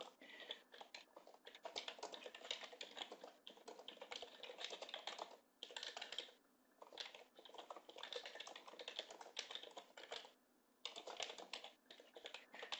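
Rapid typing on a computer keyboard, close and steady, with dense clattering keystroke runs broken by a few short pauses and no voices.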